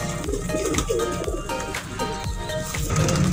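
A domestic pigeon from Sialkot coos close by, giving repeated soft, throaty calls over a busy background of other birds.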